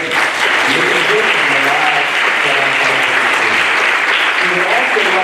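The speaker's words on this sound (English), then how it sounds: "can we give these community partners and spiritual leaders a big round of applause" Loud, sustained applause from the audience at a school board meeting, dense clapping held steady from start to finish with a murmur of voices underneath.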